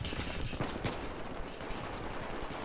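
Pistol shots from an M1911 in the video game Battlefield 3, a few sharp cracks amid a noisy multiplayer battle with constant background gunfire.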